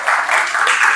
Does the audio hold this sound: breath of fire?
no